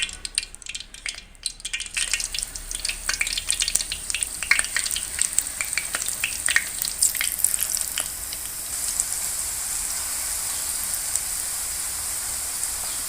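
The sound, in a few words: potato pakora frying in hot ghee in a pan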